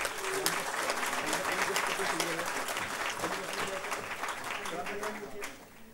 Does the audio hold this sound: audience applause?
yes